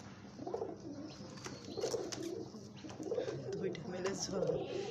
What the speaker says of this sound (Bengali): কবুতরের ডাকটা আমার কাছে খুব ভালো লাগে।